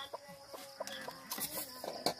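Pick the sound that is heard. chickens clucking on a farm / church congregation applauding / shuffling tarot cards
chickens clucking on a farm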